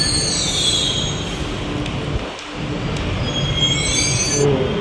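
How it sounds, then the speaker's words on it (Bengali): A Bengaluru metro train pulls into the platform with a loud, close rolling rumble and high metallic wheel squeal that fades briefly as it slows, then rises again. "তো এই মেট্রোটাতে আমি বর্তমান উঠবো"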